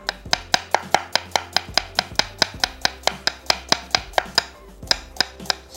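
A knife finely slicing a medium onion on a board gives a quick, steady run of about twenty crisp, evenly spaced chops, close and clear, with no voices.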